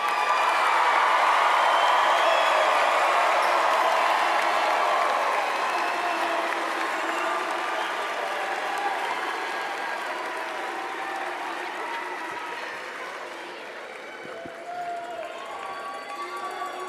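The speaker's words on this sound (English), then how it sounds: "Please join me in giving these graduates a huge round of applause" Sustained applause and light cheering from the audience for graduates at a university undergraduate commencement, a broad steady roar that slowly fades across the hall.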